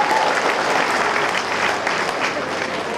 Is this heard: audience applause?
yes